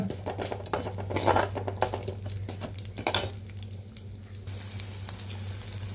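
Garlic, chana dal and urad dal sauté in hot oil for drumstick leaf chutney, a soft sizzle broken by spatula scrapes and pan clatter, over a steady low hum from the stove.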